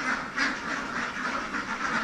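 Ducks on a Philippine duck farm, a flock of Itik Pinas, quacking in a dense overlapping chorus that carries on steadily throughout at fairly close range.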